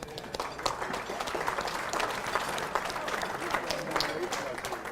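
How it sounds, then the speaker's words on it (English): Audience applause at an investor dinner, a moderate room of clapping hands, fairly faint and steady, mixed with crowd murmur and some talking. "So round of applause to all of them."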